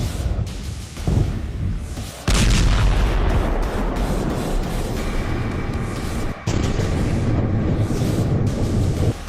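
Explosions in the Syrian civil war form a loud, dense rumbling roar with heavy booming bursts that swell and drop off abruptly at moments, sustained throughout.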